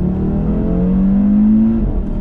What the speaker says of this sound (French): On va mettre pied au plancher.